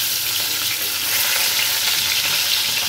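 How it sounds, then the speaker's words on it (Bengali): Potatoes fry with salt and turmeric in hot oil, giving a loud, dense, unbroken sizzle close up for a few seconds. "আলুটাকে সেদ্ধ করিনি, আগে ভেজে নিচ্ছি নুন হলুদ দিয়ে।"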